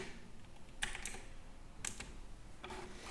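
Clusters of keystrokes on a computer keyboard as a Linux command is typed, a few quick bursts of clicks separated by short pauses, close and clear with no talking.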